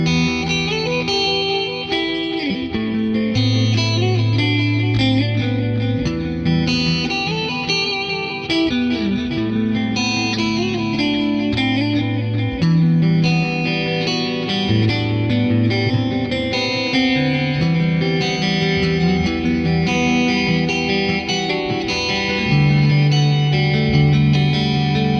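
A distorted Schecter Good Omen electric guitar with humbucker pickups plays thick, sustained chords and riffs with a chorus-like shimmer, loud and continuous throughout.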